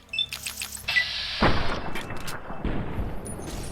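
A single rifle shot in Fallout: New Vegas rings out with a sharp crack and a trailing echo, preceded by faint game ambience and a few light metallic ticks.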